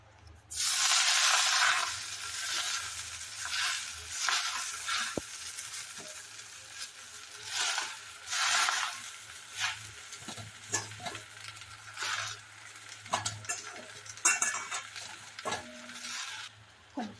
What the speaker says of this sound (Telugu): ఒక్క చుక్క నూనె వేసుకొని గోంగూర పోసుకోవాలి